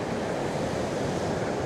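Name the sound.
ocean waves and surf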